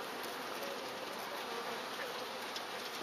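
Honeybees at a busy hive buzz in a dense, constant hum, close and steady throughout, with no voices.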